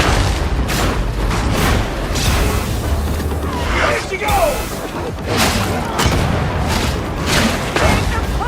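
Grenade blast in the Warhammer 40,000: Darktide video game, a loud booming explosion with crashing debris amid dense, continuous combat noise, while a player talks over the action.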